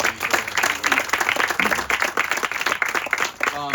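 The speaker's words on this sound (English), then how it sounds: "So if we can give them a round of applause." A crowd claps in steady applause at an elementary school groundbreaking ceremony, a brief burst of many hands clapping outdoors with faint voices under it.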